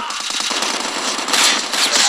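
Video game gunfire in a shooter match, a dense rapid burst of automatic shots, loud and close, growing harsher toward the end, with no talking.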